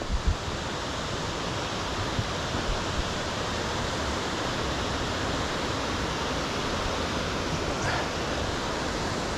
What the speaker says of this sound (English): It's a cascade.